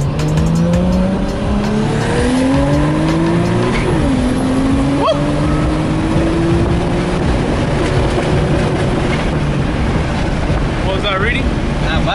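A Nissan R32 Skyline accelerates hard under boost, its engine droning loud and steady as the pitch climbs through gear changes, heard from inside the car with broad road and wind noise throughout.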